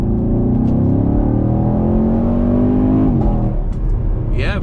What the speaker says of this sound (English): Oh, the little burbles and pops is nice. And this is a completely stock exhaust.